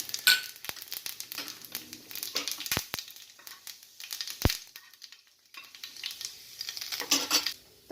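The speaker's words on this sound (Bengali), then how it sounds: "এই তেলটার মধ্যে আমি দিচ্ছি একটা শুকনো লঙ্কা সামান্য পাঁচফোড়ন" Dried red chili and panch phoron dropped into hot oil in a pan, giving a quiet crackle and sizzle with several sharp clinks of a utensil against the pot, close and without talk.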